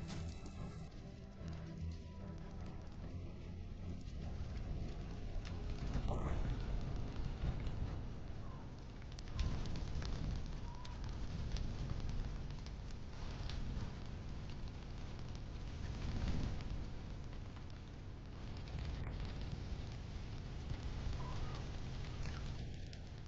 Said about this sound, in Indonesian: Api membesar cepat tolong.